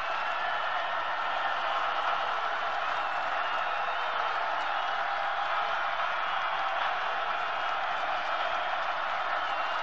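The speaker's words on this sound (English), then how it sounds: "Crowd here in Lawrence, but it is vocal right now" A large football crowd at Baylor versus Kansas in Lawrence keeps up a steady, hissing roar of noise, even and sustained, heard at a moderate distance with no clear individual voices.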